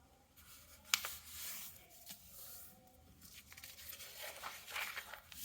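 A sheet of drawing paper is folded in half, giving faint close rustles and soft crinkles, with one sharper crackle of the crease near the start.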